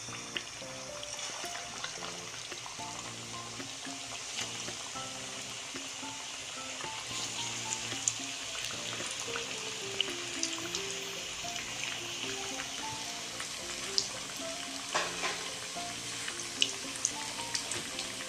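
Coated KFC-style crispy chicken frying in hot oil over high flame, a soft steady bubbling sizzle that stays faint and even throughout, with background music playing over it.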